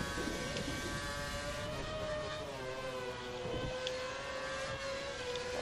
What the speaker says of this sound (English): I'm getting so close to Grosjean now that I can hear his engine louder than mine